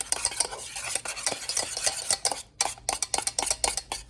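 A spoon scrapes and clinks steadily against a pot while custard for an apple cake is stirred as it comes to the boil, with continuous rhythmic strokes and a faint sizzle.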